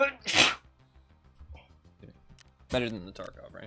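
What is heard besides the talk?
sneeze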